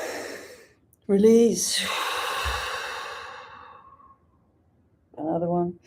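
A deep guided breath during a breathing exercise: a long, audible exhale sweeps out after spoken instruction, with a brief low thump mid-breath, then a voice resumes talking.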